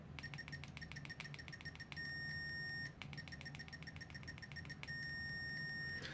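A multimeter set to continuity, tested with ProMaster leads, gives fairly quiet electronic beeps: runs of rapid short pips broken by a longer steady tone, repeated twice.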